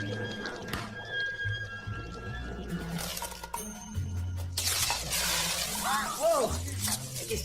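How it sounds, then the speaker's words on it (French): A bucket of ice cubes tumbles and crashes to the floor in a short clattering burst of shattering, tinkling impacts, with music running underneath and a brief voice exclamation near the end. "j'ai fait tomber le seau"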